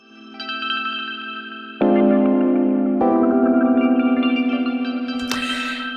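A granular synth layer plays over chords with volume automation, building shimmering, echo-laden sustained tones that step up in loudness and texture twice, then end in a bright noisy swell, with no speech.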